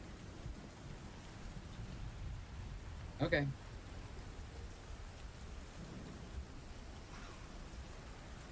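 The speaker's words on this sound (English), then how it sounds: "there was rain and thunder." Faint, steady rain hisses throughout a storm, with low thunder rumbling softly underneath; a voice briefly speaks near the middle.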